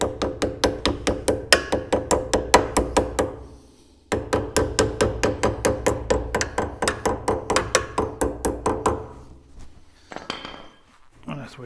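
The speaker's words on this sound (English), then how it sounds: "get your hammer" A hammer strikes metal in a fast, steady run of sharp ringing blows during a rear brake rebuild on an MG ZT or Rover 75, pausing briefly before a second burst of repeated hits, then a few scattered knocks.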